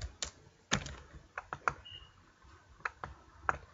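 Quiet, irregular keyboard typing on a computer while navigating Windows folder options, a scattering of sharp key clicks and taps with short pauses between them, with no talk.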